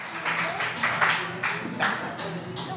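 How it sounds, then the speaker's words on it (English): Audience clapping at a comedy workshop as an evaluator is called up, uneven bursts of hand claps with a few louder peaks, fairly close and with no speech. "Give a round of applause."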